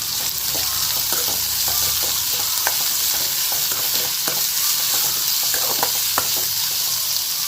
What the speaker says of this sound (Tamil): ஸோ வெங்காயத்தை சேர்த்தாச்சு இப்போ இது நல்லா வதக்கி வச்சுக்கலாம்